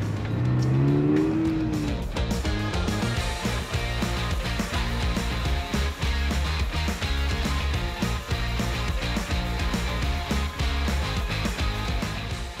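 A Subaru 2.4-litre horizontally opposed boxer four-cylinder engine growls loudly while driving on an Australian road, a steady, dense engine drone that revs up early and then holds continuously to the end.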